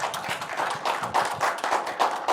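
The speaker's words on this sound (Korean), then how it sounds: "우리 여러분들 박수 좀 쳐주세요." Church congregation clapping during a Sunday worship service after a baptism prayer, a steady, moderately loud patter of many hands with no talk over it.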